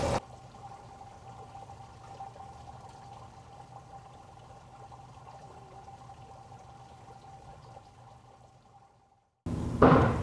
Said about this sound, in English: has turned on the water through the drip irrigation